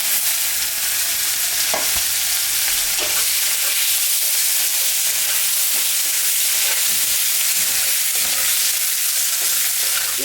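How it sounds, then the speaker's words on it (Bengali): Dry red chili, cumin, a few bay leaves and chopped onion frying in hot oil, a loud continuous sizzle and crackle close by, with occasional stirring scrapes and no voices. "এর উপরে শুকনো লঙ্কা জিরা সম্বরা দিব কয়েকটা তেজপাতা দিয়ে দিব কাটা পেঁয়াজটা দিয়ে"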